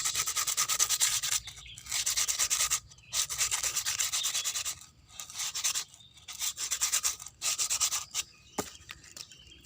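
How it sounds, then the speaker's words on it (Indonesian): Bursts of brisk sandpaper scraping on a sprouting coconut's hard shell, fast rhythmic strokes with short pauses between runs, close up and fairly loud. "kita amplas biar lebih halus."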